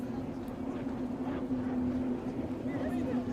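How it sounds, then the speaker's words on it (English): An XCAT racing powerboat with two Mercury 400 engines runs flat out, a steady droning engine roar with a strong constant hum, continuous throughout at a moderate distance. "those two Mercury ROS 400 engines are sounding pretty good"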